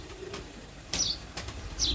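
A pigeon flaps its wings close by in a few quick, sharp bursts, with soft background noise between the flurries.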